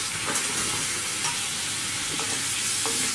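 Masala and sliced tomatoes are stirred in a pan on low heat for a Kerala egg curry. The sizzle is steady and close, with a few soft scraping strokes through it.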